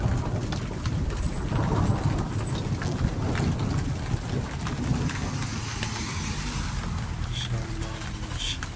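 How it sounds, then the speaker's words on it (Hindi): Steady rain pours down in Saudi Arabia, with gusty wind rumble buffeting the microphone throughout. "बारिश हो रही है"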